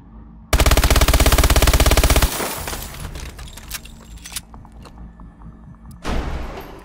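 An MP11 submachine gun in Call of Duty Advanced Warfare fires one rapid, loud automatic burst of about two seconds. Mechanical clatter follows, then a short second burst near the end.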